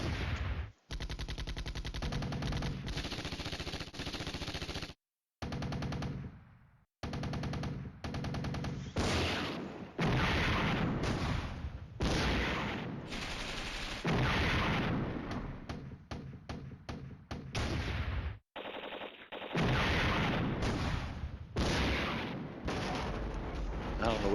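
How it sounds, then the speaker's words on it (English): Mortar and artillery fire, including 120 mm rounds, in the Flashpoint Campaigns: Red Storm wargame, heard as loud, dense bursts of booming gunfire that keep going through most of the stretch, broken only by brief silent gaps. "Oh, that's that artillery, that funny mortar, and the 120s."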